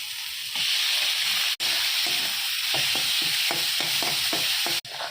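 Washed fish fat hits a hot pan with oil and sizzles, a loud steady hiss that stays constant, broken by a few scraping stirs and pops.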